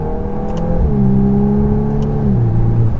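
A Volkswagen Golf 8R with all-wheel drive accelerates out of a bend, engine droning close and loud, pitch climbing then dropping at a gear change before rising again.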